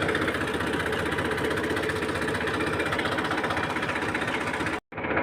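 A tractor engine runs steadily while spraying water over a cumin field, a continuous near, loud mechanical drone with even vibration that cuts out abruptly just before the end.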